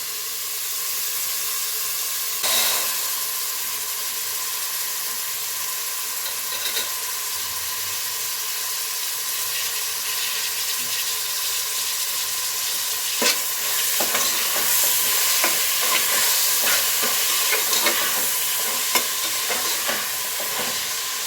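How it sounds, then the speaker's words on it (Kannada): Field beans are tipped into onions frying in oil and stirred, making a steady soft sizzle with occasional louder scrapes and clatters of the spoon, heard close with no talk. "ಈಗ ಈರುಳ್ಳಿ ಚೆನ್ನಾಗಿ ಎಣ್ಣೆಲಿ ಫ್ರೈ ಆಗಿದೆ. ಈಗ ಅವರೆಕಾಳು ಹಾಕ್ತಾಯಿದ್ದೀನಿ."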